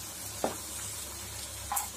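Garlic frying in a pan for garlic chutney gives a soft, steady sizzle broken by two brief, sharper crackles, close and unaccompanied by talk.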